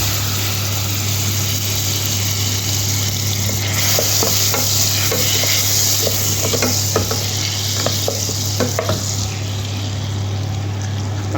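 Butter melting and sizzling in a pan while saffron rice is being made, a steady frying hiss under a low hum, with a few faint stirring taps near the middle.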